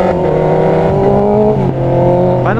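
A Honda CB650R motorcycle with e-clutch accelerates hard, its engine tone climbing steadily before a brief dip at an upshift and then rising again, loud and close with no talking.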